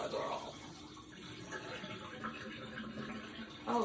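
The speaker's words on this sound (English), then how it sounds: "Now I'll run the water off." Water running from a kitchen tap while cooling boiled eggs for potato salad, a faint, steady flow throughout with soft clinks and a slightly louder splash at the end.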